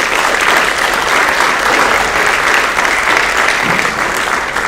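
A crowd in a high school auditorium at an athletics awards night claps for five cheerleaders, loud, dense and continuous applause from start to finish with no speech heard.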